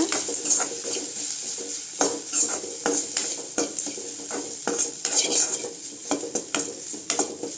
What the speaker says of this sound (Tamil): அடுத்து தேங்காய் சேர்த்துக்கலாங்க. லைட்டாக வறுத்துக்கலாங்க.